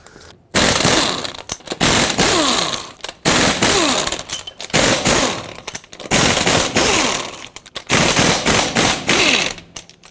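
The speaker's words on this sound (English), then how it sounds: "use a 21mm socket and remove all of your lug nuts" An impact wrench with a 21mm socket removing lug nuts from a 2004-2008 Ford F-150 front wheel, loud rapid rattling hammering bursts of one to two seconds, repeated about six times with short pauses.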